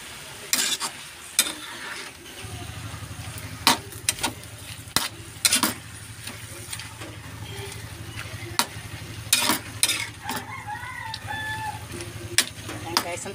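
Pechay (bok choy) is stirred in a sizzling pan, a steady fry hiss running underneath repeated scraping and clanking strokes of the utensil, with a rooster crowing in the background.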